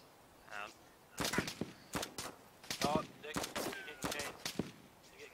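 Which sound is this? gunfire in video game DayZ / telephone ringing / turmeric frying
gunfire in video game DayZ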